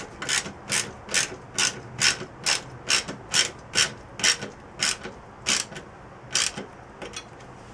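A ratchet wrench tightens bolts to secure a birdcage burner, giving about a dozen crisp, evenly spaced clicking bursts close up with no talking.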